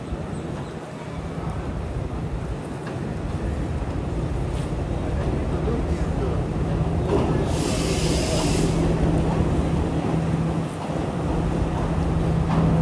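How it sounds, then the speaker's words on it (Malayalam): A local train pulls into a Sri Lankan station platform on the Kandy to Ella line. The rumble is loud and steady and lasts throughout, with a brief hiss partway through and a low sustained hum. "ട്രെയിൻ ഇതാ കടന്നു വരികയാണ്."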